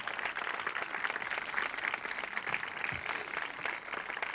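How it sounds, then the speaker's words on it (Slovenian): Steady crowd applause fills a concert hall after a host invites the audience to clap, a dense, even wash of many hands sustained for several seconds with no break. "vas vabim, da ju nagradite z aplavzom"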